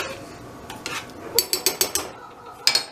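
Utensil scraping and clinking against a pan while sweet and sour chicken stir fry is mixed, a run of sharp, regular metallic knocks and scrapes up close, alone with no talk.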